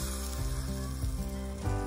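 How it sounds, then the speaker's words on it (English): Pancakes fry in oil in a pot at a van campsite, giving a steady close sizzle and crackle that swells a little near the end, with no voices. "That's not the best pot for making pancakes."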